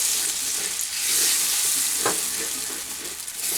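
Thick dhoka lentil mixture sizzles in ghee as a spoon stirs it around the pan, giving a continuous close hiss with scraping strokes and a brief sharper clatter midway.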